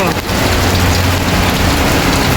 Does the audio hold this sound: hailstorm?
yes